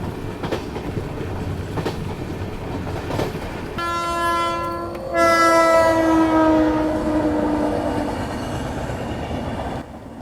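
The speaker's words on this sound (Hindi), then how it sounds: "तो काफ़ी देर ट्रेन वेल्लोर कैंट में रुकी थी, लाइक आधे घंटे से ट्रेन यहाँ पे खड़ी थी और फाइनली अब यहाँ से डिपार्चर हो रहा है।" A long train sits at Vellore Cantt railway station and then pulls away. A loud, sustained horn blast rises over the clatter of the wagons, with the steady clickety-clack of the rails continuing underneath.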